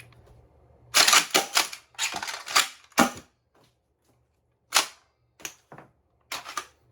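A 3D-printed Nerf Breacher shotgun is primed and fired repeatedly. Close, crisp plastic clacks and snapping pops come in quick irregular bursts, separated by short silences.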